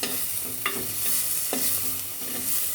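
Ingredients sizzle in oil in a clay pot while being stirred, with a steady frying hiss broken by a few distinct scraping strokes of a spoon against the pot, close and fairly loud.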